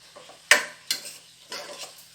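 Sliced onions sautéing with salt in a pan for a Thalassery-style chicken dum biryani: three distinct scraping spatula strokes, sharp and close, over a faint background sizzle.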